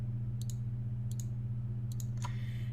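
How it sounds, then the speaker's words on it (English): A computer mouse clicks while files are selected, heard as four short, sharp double clicks spaced roughly half a second to a second apart over a steady low hum. "we can select all of them by holding down the control key and clicking on them individually"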